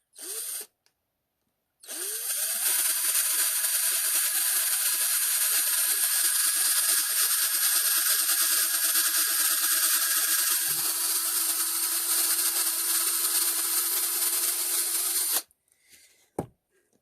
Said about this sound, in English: Okay, I've drilled my first hole.